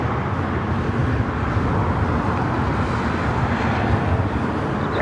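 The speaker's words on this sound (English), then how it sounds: "787-9 Dreamliner." A United Airlines Boeing 787-9 Dreamliner lands at LAX, a steady, loud broadband jet roar holding evenly throughout with no voices.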